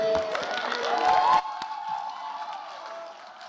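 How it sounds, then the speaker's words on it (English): A theatre audience cheering and whooping after a show, loud crowd shouts and applause that cut off abruptly, leaving a quieter murmur of the room fading away. "it is not quite the time to stop cheering"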